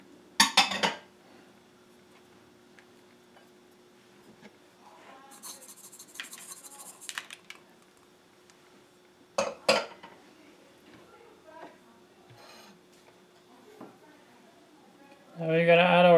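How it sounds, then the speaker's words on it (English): A spoon mixes grated pumpkin and coconut in a bowl for pumpkin pone, giving a few sharp clinks and scrapes against the dish, separated by quiet gaps, with a person speaking nearby. "we're gonna start mixing. Pumpkin and coconut."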